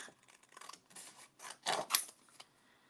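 Scissors snip through card stock during a Christmas card craft session, a run of soft clips building to two louder close cuts, with no talking.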